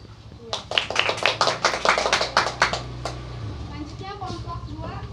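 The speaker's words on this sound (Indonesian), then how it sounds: "Tepuk tangan untuk temannya." A classroom of students claps for a classmate, a burst of sharp, dense handclaps that swells and then thins out after about three seconds, leaving scattered faint claps and a low steady hum.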